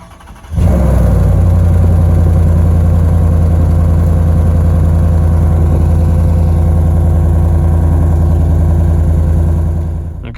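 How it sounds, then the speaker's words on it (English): A 2023 Ford F-150 with the 5.0 V8 and a Flowmaster FlowFX exhaust fires up from cold after a brief quiet moment, then settles into a loud, deep, steady rumbling idle that runs on alone. "we're gonna get a nice cold start before we head out"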